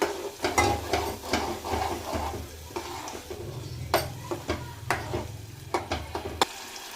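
Cashew curry sauce frying in oil in a pan, a steady sizzle with repeated scraping and stirring clatter from a spoon, close and fairly loud, with no voices.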